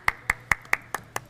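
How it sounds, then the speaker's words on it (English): A handful of sharp claps at an even pace, about five per second, at a climate action award ceremony, fairly faint and close, with a low hum underneath and no cheering crowd. "Round of applause."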